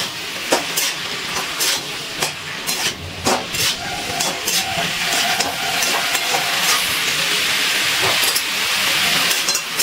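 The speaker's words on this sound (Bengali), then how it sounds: "এবার সব কিছু ভালো করে মিশিয়ে নিচ্ছি।" Spinach, mixed vegetables and slit green chillies stirred together in a hot pan over a medium gas flame, a steady sizzle with repeated scraping strokes of the spatula, close and fairly loud.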